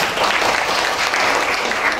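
Audience applause at a community service programme send-off ceremony, a dense steady clapping from a crowd that carries through the whole stretch without pause.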